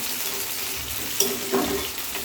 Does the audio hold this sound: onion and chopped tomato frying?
yes